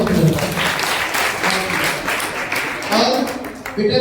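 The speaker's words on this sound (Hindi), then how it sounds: "एक बार खुद के लिए तालियां बजाएं" Students at a government girls' senior secondary school clap for themselves in an uneven burst of applause that swells and dips, with a few individual claps and voices rising through it.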